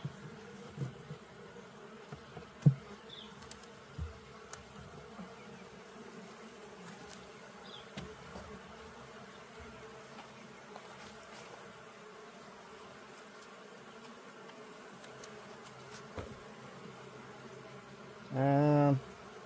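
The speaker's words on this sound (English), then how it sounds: "oh, that's a bee" Honey bees buzz around an open Layens hive, a faint steady hum with a louder burst near the end as one passes close, plus light handling noises.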